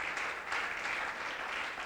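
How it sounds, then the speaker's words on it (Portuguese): A church congregation applauds in a dense, steady burst of clapping that fills a short stretch, loud and close with no talking over it. "alguém pode aplaudir para a glória do Senhor"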